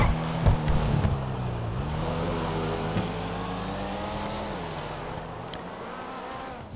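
Race cars in a GTA circuit race at Autodromo NZL Grotteria accelerate with loud, continuous engine drone, the pitch rising and dipping through gear changes, close and steady with no talk.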